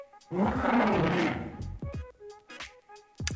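A loud, drawn-out roar from the kaiju Manda in the Roblox game Kaiju Universe, with a rough, growling texture, followed by a few sharp thuds and a short, high shriek at the end.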